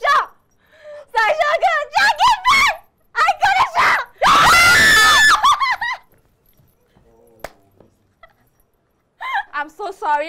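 Loud, sustained human screaming during a live-streamed gaming session with friends, a long shrill burst surrounded by excited shouting and talk, then fading to quiet before voices return.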